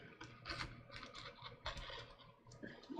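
Scissors snipping through fabric while pattern pieces are cut out for a sewing project, a quick series of close, crisp cuts heard alone.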